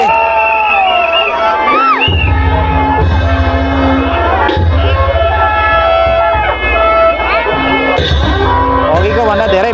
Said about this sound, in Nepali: अघिको भन्दा धेरै भीड लागिरहेको छ है